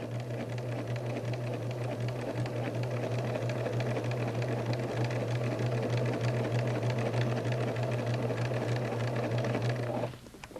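A sewing machine stitching a garment casing over elastic, a steady motor hum with fast rhythmic needle clatter running continuously for about ten seconds before stopping, close and without speech.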